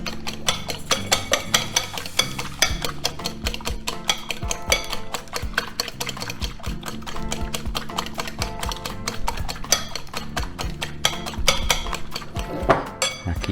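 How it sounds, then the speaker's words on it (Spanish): Eggs beaten in a bowl for a cheese quiche, a fast continuous run of whisk or fork clicks against the bowl, close and steady throughout. "Lo importante es batir un poco, nada más para que pierda un poco el olor a huevo"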